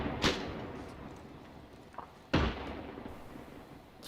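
Explosions in the video game Arma 3, two sharp booming blasts a couple of seconds apart with a faint pop between them, heard at a moderate distance and fairly quiet, with no talking.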